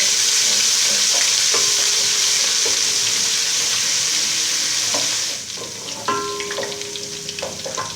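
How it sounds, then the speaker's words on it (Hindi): Ginger garlic paste frying with roasted coriander in a pan for a minced meat and peas dish, loud hissing sizzle that drops sharply about two-thirds through, then quieter stirring and scraping, close, no talk. "अब इसमें अदरक लहसुन का पेस्ट ऐड करेंगे। इसको भी हल्का सा पका लेंगे।"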